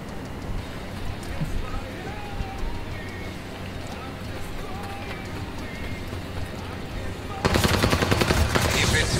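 An MP40 submachine gun firing in a Call of Duty zombies match, a rapid, loud burst of automatic fire breaking in near the end over continuous game ambience and footsteps, with players talking.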